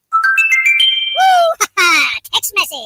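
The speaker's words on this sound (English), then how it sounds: "Text message." Electronic ringtone-style jingle used as a text message alert on a radio sports call-in show, a bright melodic chime sequence of rising tones, loud and up front, followed by brief spoken bits at the end.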